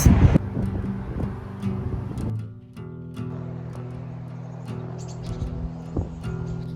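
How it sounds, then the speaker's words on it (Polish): Wind gusting against the microphone in low rumbling buffets, with a brief drop midway and faint background noise, no voices. "no tak wieje takim wiatrem"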